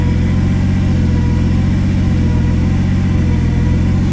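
A Toyota MK3 Supra engine running on a standalone ECU idles steadily at close range, with a constant low, even rumble and no pauses or revs throughout.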